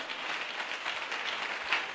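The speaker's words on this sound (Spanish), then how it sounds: "dale ese aplauso, papá, fuerte." Church congregation applauding during a Spanish-language worship service in Yamasa, a steady broadband wash of clapping that holds even and moderately loud through the short span.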